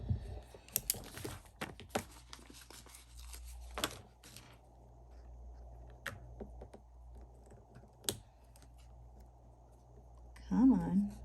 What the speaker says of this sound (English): So I'm going to go ahead and just write that in.